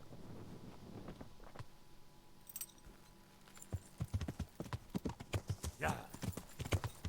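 Horse hooves clip-clopping in the Kingdom Come: Deliverance video game, a steady run of close, loud hoofbeats that picks up partway through, with a brief wind rush and a voice speaking faintly early on.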